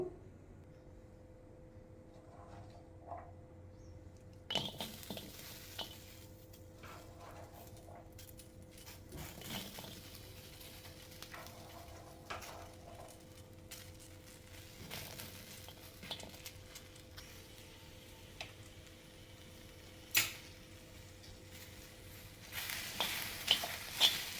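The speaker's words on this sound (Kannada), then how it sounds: "ಇದನ್ನು ಇವಾಗ ನಾವು ಹಂಚಿಗೆ ಹಾಕ್ಬಿಟ್ಟು ಹುರ್ಕೋಬೇಕು" Chopped okra pieces roasting in a pan on the stove, a low steady sizzle with scattered scraping and clinking as the pieces are stirred, with a few sharper knocks near the end.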